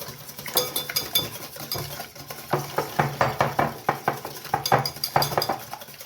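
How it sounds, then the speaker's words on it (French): A utensil stirs crème caramel mixture with vanilla in a bowl, giving a run of rapid scraping clinks against the bowl that grow busier and louder partway through, with no talking. "Et après, tout simplement, on va bien mélanger."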